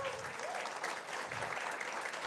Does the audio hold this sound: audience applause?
yes